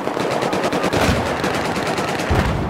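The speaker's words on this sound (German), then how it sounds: "Okay, hier wird geschossen." Sustained automatic gunfire from the video game Battlefield 4 during a Team Deathmatch on the Lancang Dam map, dense rapid bursts filling the whole stretch at steady loudness with no talking over it.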